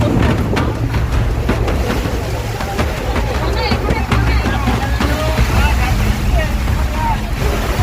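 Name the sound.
storm with heavy rain and wind on a river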